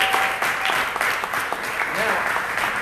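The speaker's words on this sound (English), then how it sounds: "Everybody, big round of applause for Manny Lopez." A crowd at a city summit and gala mastermind event gives a steady, dense round of applause, continuous and fairly loud throughout, with a brief whistle partway through.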